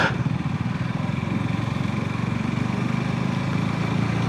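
A motorcycle engine drones steadily and loudly throughout, close up and alone, on a night ride along empty roads and a bypass in Berhampore.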